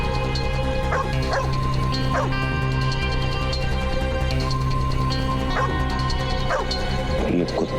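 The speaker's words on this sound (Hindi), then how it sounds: "ये कुत्ता इतना ज्यादा क्यों भौंक रहा है?" A dog barks again and again in sharp, loud bursts spread irregularly across the stretch, some yips and whimpering mixed in over a steady background drone.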